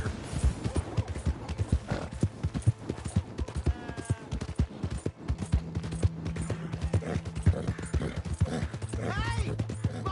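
Horse hooves clip-clop steadily through a busy Red Dead Redemption II game scene, with a brief whinny and people talking over the top.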